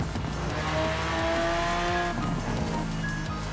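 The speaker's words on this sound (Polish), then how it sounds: "On jest teraz zagłuszany przez dźwięk silnika tego samochodu." A car engine in Forza Horizon 4 drones and revs with whining gear tones and a brief tire squeal, steady and fairly close, with no voices.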